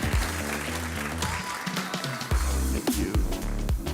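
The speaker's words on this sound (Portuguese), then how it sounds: "Por favor, uma salva de palmas." Audience applause at the Zabbix Conference Latam 2023 greets the company's global CEO as he takes the stage, steady clapping blended with loud walk-on music throughout.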